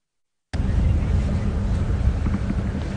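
After a moment of silence, strong wind on a safari drive at Djuma Game Reserve suddenly buffets the microphone with a loud, steady low roar that gusts unevenly and continues to the end.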